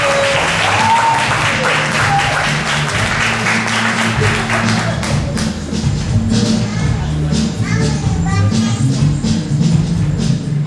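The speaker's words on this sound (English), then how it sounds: "I want you guys to give a big round of applause for P.O.E.T." An audience claps for a spoken-word poet, loud and sustained, with a voice and some music-like tones blending in under the applause.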